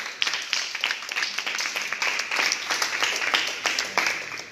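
Congregation clapping for the Lord during a church service, sharp individual claps standing out over a moderately loud, uneven patter that rises and falls, with some voices mixed in.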